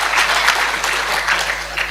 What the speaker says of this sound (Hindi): अभी ताली बजा लो, आपको समझ में आ गई।